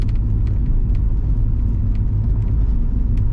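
Low, steady rumble of a turbocharged Acura Integra's interior while driving at low revs, a smooth muffled hum with faint road noise and no voices.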